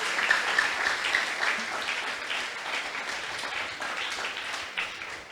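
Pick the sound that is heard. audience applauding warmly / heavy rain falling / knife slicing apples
audience applauding warmly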